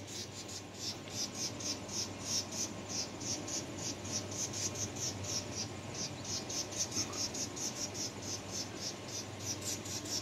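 Rapid, scolding chirps from a small bird near its nest in a hanging flower pot repeat in a fast continuous series close by, with a low outdoor rumble underneath.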